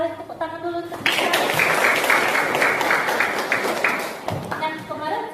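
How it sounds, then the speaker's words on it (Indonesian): A classroom group clapping together for about three seconds after a teacher's voice, with talking before and after. "Tepuk tangan dulu untuk kita."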